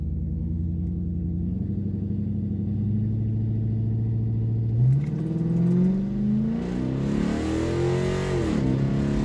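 The drag racing car GRAMPS revs loudly and close, its engine note climbing in pitch, then launching with a sharp surge that keeps rising and wavering as it pulls away.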